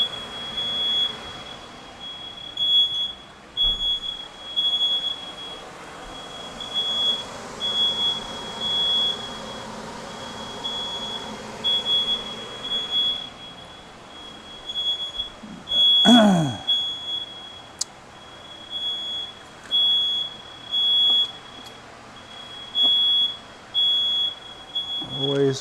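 Smoke alarm in a kitchen where fish is cooking, sounding a steady string of short, shrill beeps repeating evenly through the whole stretch at a constant level, with a rising whoosh midway.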